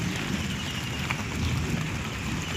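Heavy rain from a Kalbaisakhi storm falling steadily over a garden, a dense continuous hiss with low rumbling beneath and no voices.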